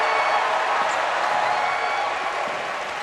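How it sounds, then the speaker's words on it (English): Partisan Kentucky fans at a basketball exhibition against Puerto Rico in the Bahamas roar in a broad, sustained wash of cheering that holds steady at high volume and fades slightly at the end. "you can hear the obviously very partisan Kentucky crowd"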